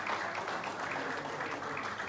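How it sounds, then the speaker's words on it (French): Audience applause at a Pakistan Independence Day celebration held at a hotel in Guinea Conakry, a steady wash of many hands clapping at an even level throughout, with no voices standing out. "on applaudit encore une fois"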